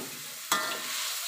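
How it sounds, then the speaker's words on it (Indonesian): Garlic and ginger drop into hot oil with a sudden loud burst of sizzling that settles into a steady crackling fry, close up. "minyak sudah pun panas, kita masukkan bawang putih dan halia untuk ditumis"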